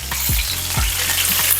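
Golden-brown chicken frying in a pan, a dense, close hiss of sizzling grease with a few low thuds and pops.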